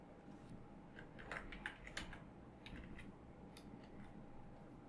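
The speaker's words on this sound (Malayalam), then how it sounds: "ഇനി പിക്ചറിൻ്റെ പേര് ടൈപ്പ് ചെയ്ത് കൊടുക്കുക." Someone types a picture's file name on a computer keyboard while saving an Excel worksheet as an image: faint, irregular clusters of light key clicks over a quiet room hum, with no talking.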